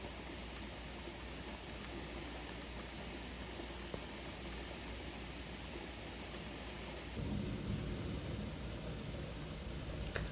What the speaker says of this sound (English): I love a good summer storm.